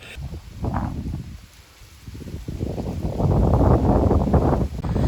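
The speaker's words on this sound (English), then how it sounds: "Cyclone is just past us, but still pretty windy." Steady wind blowing and buffeting the microphone in a far north Queensland garden just after a cyclone, with gusts swelling louder toward the end; no voices.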